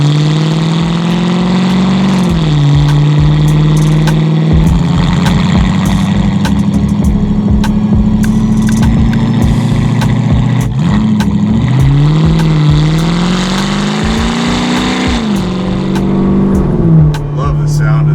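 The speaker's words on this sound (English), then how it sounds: "Love the sound of this car." A custom widebody Mercedes-Benz 300SL Gullwing with an AMG engine idles with a steady rumble, then revs up and settles back down several times. The engine is loud and close, and a voice speaks now and then over it.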